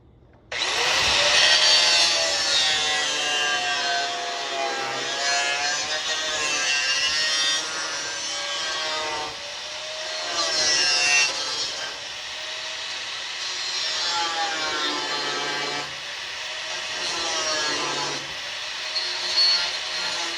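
A power cutting tool slices through the metal radiator support of a 1982 Capri, producing a loud, sustained grinding whine with shifting pitch for about twenty seconds, close and without speech.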